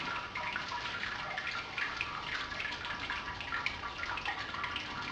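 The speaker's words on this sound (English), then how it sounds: "It's basically adding our sparge water in at the same pace as it's draining." Sparge water steadily trickles and drains through a bed of grain in a Brewzilla all-in-one beer brewing system, a continuous close splashing flow at even level with no talk.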